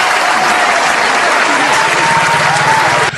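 Steady, dense applause from a crowd greeting Miss Asha as the main attraction at an event, loud and continuous for about three seconds before cutting off, with faint voices mixed in.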